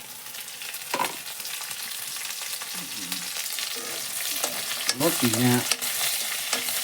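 Cicadas fry in oil in a pan with a faint sizzle and a few stirring scrapes, while someone talks over the cooking.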